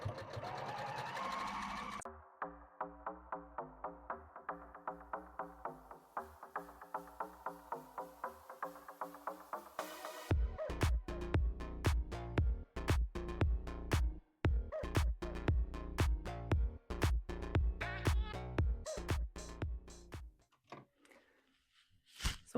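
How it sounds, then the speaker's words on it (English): A sewing machine runs stay stitching along the edge of a quilt top, first a fast steady whir, then slower bursts of distinct rhythmic needle clacks, stopping and starting, close and fairly quiet. "Now I'm just stitching along the edge."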